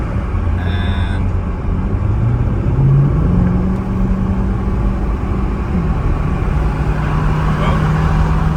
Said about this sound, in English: I must have hit the throttle accidentally too aggressively without realizing it.